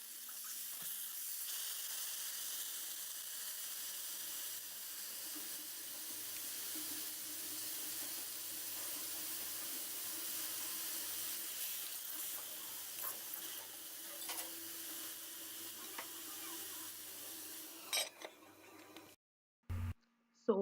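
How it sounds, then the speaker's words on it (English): A pot of water simmers with the lid closed, giving a steady, quiet hiss and faint bubbling. It runs evenly for most of the stretch, then breaks off into a few clunks and near silence at the end. "I'm gonna close the pot and just let it simmer for around 5 minutes"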